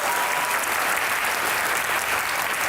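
Studio audience applause welcoming guests on a Pakistani comedy talk show, dense and steady clapping that fills the whole stretch without letup.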